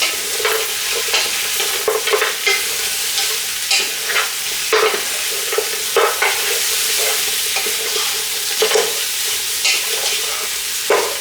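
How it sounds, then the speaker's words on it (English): Lamb and beef stir-fry in a hot pan with garlic, a close, steady sizzle broken by repeated scraping strokes of the spatula at an irregular rhythm, with no talking. "We stir with all that garlic flavoring into the meat."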